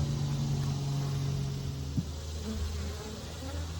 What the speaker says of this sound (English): Strings of bees making wax.